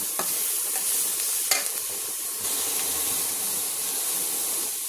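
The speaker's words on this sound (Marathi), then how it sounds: "टोमॅटो आता हलकेशी शिजवायचे" Tomatoes cook gently in a pan with a soft, steady sizzle and faint hiss, broken by a few light stirring scrapes, quiet and close.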